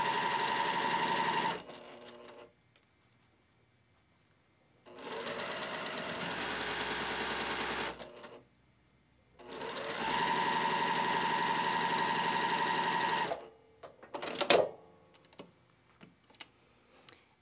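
A sewing machine runs in three steady bursts of stitching while quilt block pieces are joined, with short pauses between runs and a few light clicks and handling noises near the end; no talk.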